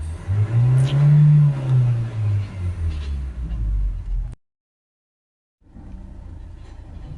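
A Fiat Talento 1.6 dCi diesel van engine, with a turbo boost fault, revs up and holds a loud, low rumble for a few seconds, cuts to silence, then idles quietly again.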